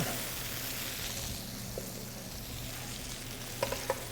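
Pureed tomato sizzling in a pan with onion and garlic for a pomodoro sauce, a dense, steady close hiss throughout, ending with a couple of brief clinks, no talking.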